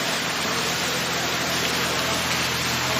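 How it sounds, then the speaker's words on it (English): Steady rain falls throughout at a Punta Cana resort, a dense, even hiss of drops on surfaces that stays loud and constant for the whole stretch with no voices over it. "It's raining."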